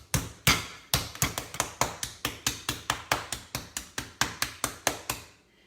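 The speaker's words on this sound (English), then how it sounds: "We're gonna flatten out this chicken, so hold your ears because it's getting ready to get noisy for a minute." A mallet pounds raw chicken flat on a cutting board in a home kitchen, about twenty sharp, loud thuds in a steady, fairly quick rhythm with no talking.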